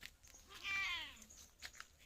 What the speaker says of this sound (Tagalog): Ito yung mga pusa ko.